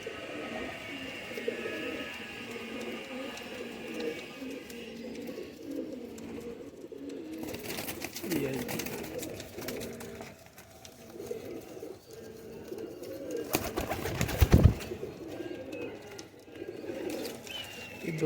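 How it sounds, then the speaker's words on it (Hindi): High flyer pigeon chicks give soft, steady cheeping calls amid a noisy loft, with a few louder rustling bursts and clatters breaking through partway. "ये तो बिल्कुल ही चूं चूं करता बच्चा है"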